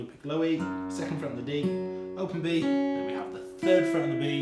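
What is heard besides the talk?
No distinct noise like a dog, phone or traffic.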